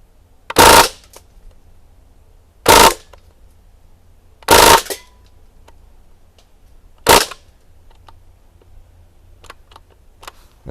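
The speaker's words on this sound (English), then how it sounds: "We're going to switch over to full auto and see what it does to that target." Umarex Legend M1A1 CO2 BB gun fired on full auto gives four short, loud bursts a couple of seconds apart, each a sharp rattling blast, with quiet between and no voices.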